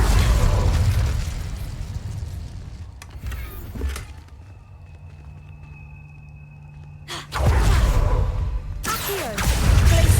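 Incendio fire spell in Hogwarts Legacy, a loud whooshing burst of flame followed by a quieter hum and a second roaring blast near the end.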